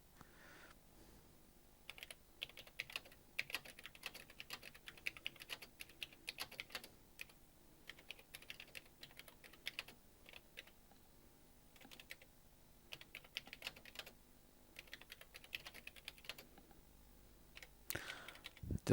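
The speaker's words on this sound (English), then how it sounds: "Doesn't improve my typing having a nicer keyboard." Someone types on an Amiga 500 computer keyboard, producing rapid bursts of close clacking keystrokes separated by brief pauses, with a louder clatter near the end.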